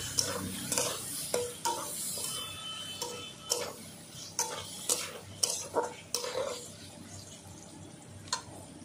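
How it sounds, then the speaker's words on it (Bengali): Chopped tomato and ginger paste being stir-fried, a soft sizzle under a series of sharp spatula scrapes and taps against the pan at an uneven rhythm, close and clear. "একটা টমেটো কুচি, 1 চামচ আদা বাটা, ভালো করে কষিয়ে নিচ্ছি।"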